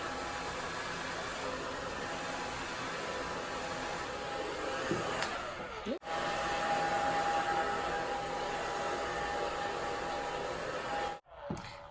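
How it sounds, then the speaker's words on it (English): Hair dryer blowing steadily on short straight hair, a close continuous rushing whoosh with a faint whine, dipping briefly twice when the airflow is moved or switched. "So that is blow drying."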